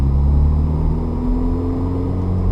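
A manual car engine pulls steadily after a smooth upshift, a loud close low rumble with rising engine tones holding throughout and no talk.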